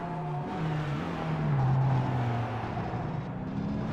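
Race car engine in a sim racing game of the Le Mans sportscar championship, a steady, buzzing drone whose pitch dips and climbs through gear changes, continuous and fairly loud with no talk.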